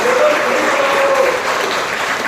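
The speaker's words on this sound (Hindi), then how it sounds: "एक बार जोरदार ताली होना चाहिए" Audience at an Indian Modicare business seminar bursting into loud, close, sustained clapping that fills the room evenly for a couple of seconds.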